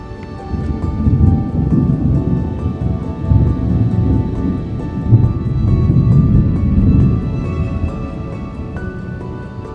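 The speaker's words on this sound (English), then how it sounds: "We had a good little lightning storm." Thunder from a lightning storm at an outdoor campsite, heard as a continuous low rumble that swells and rolls throughout, loud and close, with no clear separate cracks.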